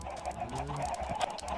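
Chickens cluck faintly in the video game Minecraft, a few soft clucks over a quiet, low background.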